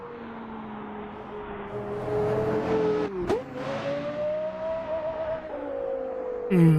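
Porsche Carrera GT V10 in a racing game, revving up, then crackling on the overrun as the throttle lifts, a sharp gear-change blip midway and a steady high engine whine, close and loud, with no voices.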